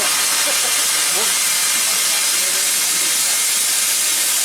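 Loud, steady steam hissing from a steam locomotive at Disney fills the whole span, a broad constant rush with faint tonal traces early on.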